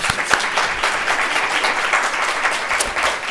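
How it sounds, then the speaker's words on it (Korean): A church congregation claps together at a Sunday worship service, a dense, steady wash of applause filling the hall for several seconds with a few sharper claps standing out near the start. "우리 하나님께 영광의 박수 합니다"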